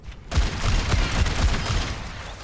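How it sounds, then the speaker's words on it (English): Ashe's coach gun in Overwatch 2 fires a single heavy blast that gives way to a loud, rumbling burst of noise lasting a couple of seconds. "now she has a coach gun, which she uses"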